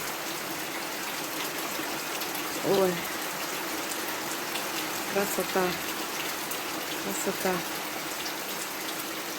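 Steady rainfall in a village, long-awaited summer rain after a heat wave, making a constant hiss of drops on surfaces with someone briefly speaking over it.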